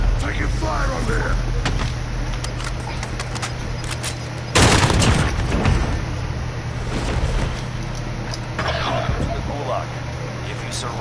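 Video game gunfire: scattered sharp shots crackle over a steady low hum, with one loud, dense burst of fire near the middle before the shots thin out again, and muffled voices in the background.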